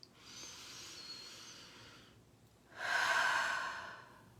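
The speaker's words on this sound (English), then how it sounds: "Take a breath." A slow, deep breath during a guided meditation: a soft, drawn-out airy exhale followed after a short pause by a louder, fuller inhale, close and unaccompanied by talk.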